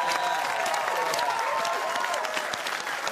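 Studio audience applause on a TV comedy show for the charity Lifeline, a loud, dense wash of many people clapping continuously, close and sustained from start to finish.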